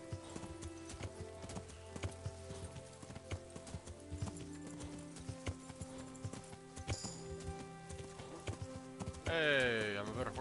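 A horse gallops in Kingdom Come Deliverance, its rapid rhythmic hooves close and clear over game music, with a loud whinny bursting out near the end.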